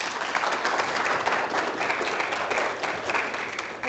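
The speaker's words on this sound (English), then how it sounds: "So please give a nice warm welcome to Professor White" An audience at an educators' conference claps steadily for about four seconds, a dense, even applause from a sizeable crowd heard alone without speech.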